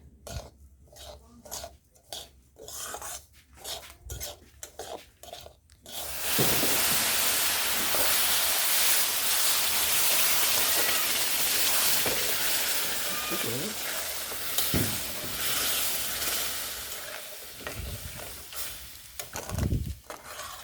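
Milk poured into a hot pan of roasted semolina and sugar for sujir halwa sets off a sudden loud, steady sizzle and steam hiss that carries on for several seconds, with a few scrapes of stirring near the end.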